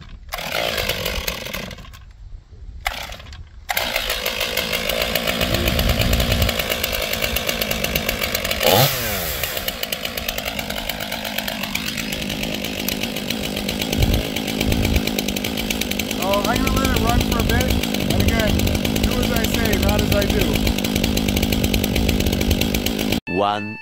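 A STIHL MS 500i chainsaw idling after a drop start, with a loud steady engine note that shifts pitch once, then runs on evenly for a long stretch with no talk.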